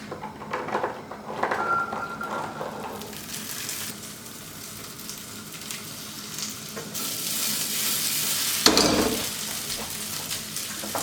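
Peas warming in a pan for a slightly warm salad, a soft sizzle and frying hiss with occasional stirring scrapes and utensil knocks, fairly close and without talk.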